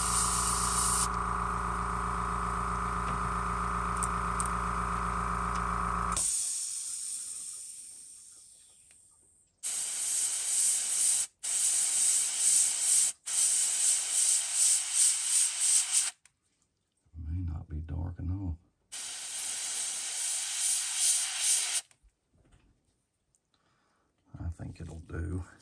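An airbrush spraying yellow paint onto the underside of a fishing lure, with steady close hiss in several bursts separated by short silences, after a stretch of louder background hum at the start.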